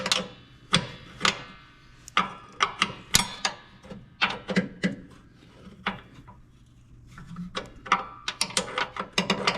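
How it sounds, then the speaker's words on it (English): A 1/2-inch ratchet clicks in quick irregular bursts as it unscrews the belt keeper bolt on a 22-inch Craftsman, Troy-Bilt or MTD snow blower, close-up metallic ticks with brief pauses between runs. "So that's gonna take a 1/2 inch, and it's just gonna unscrew directly out of there."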